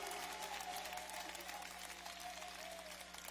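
Congregation applauding in a church during a sermon, a steady wash of clapping that is fairly faint and distant, with a low hum underneath and no clear voices.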